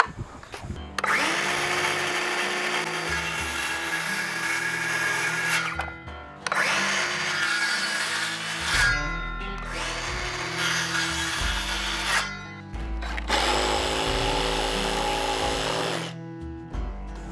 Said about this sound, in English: take a circle saw. I'm gonna do a plunge cut right on this line right here